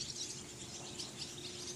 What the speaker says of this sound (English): The birds are telling you it's time to get up.